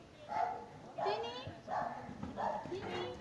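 A large dog barks in about four loud, evenly spaced bursts at a family house visit, with people talking around it.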